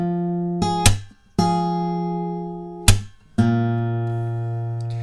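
Acoustic guitar playing a song's riff in a picking pattern with percussive slaps, ringing plucked notes broken by two sharp muted slap hits, clear and alone.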